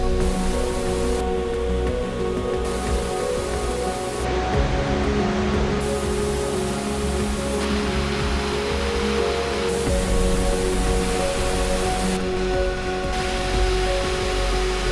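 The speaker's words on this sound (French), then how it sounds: "Des cascades majestueuses." A steady, broad roar of rushing water from a majestic waterfall and river rapids, loud and continuous with no voices.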